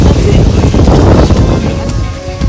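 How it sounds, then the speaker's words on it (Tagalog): Loud, blustery wind buffets the microphone by the sea at night on Bantayan Island, Cebu, rumbling over voices talking in the background. "Lakas ng hangin pero cool na cool yung dagat."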